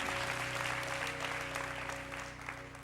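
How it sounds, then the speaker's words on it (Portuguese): A church congregation claps strongly for the Lord, a steady dense round of applause filling the room with little voice over it. "Dê um forte aplauso ao Senhor"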